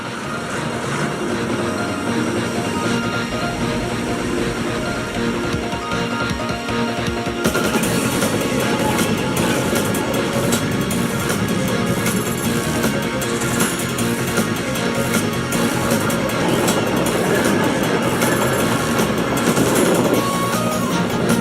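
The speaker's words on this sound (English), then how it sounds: ""A train!" cried Diesel." A steam or diesel train runs steadily along the rails, a loud, continuous rumble with a rhythmic clatter that grows fuller partway through, set under a backing of music.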